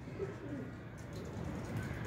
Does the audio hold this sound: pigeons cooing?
yes